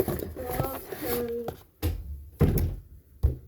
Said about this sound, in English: Can you close the door for a minute?